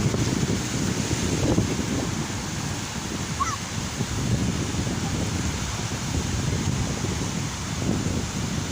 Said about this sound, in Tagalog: grabe ka balod siya guys, grabe gid ka balod. Grabe ka kusog ang hangin.